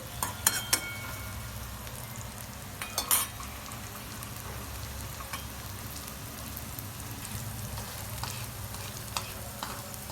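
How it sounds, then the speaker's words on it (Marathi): Onions and green chillies frying in oil with salt for egg bhurji, a soft continuous sizzle with a few sharp clinks and stirring scrapes early on. "कांद्यामध्ये मी मीठ टाकलं ना आधी तर कांदा लवकर फ्राय होते"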